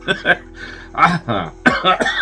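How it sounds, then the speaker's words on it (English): A man coughs in several short, close bursts, a dry lingering cough clearing his throat between them, loud and alone with no other talk. "Still got a little bit of remaining of that cough there"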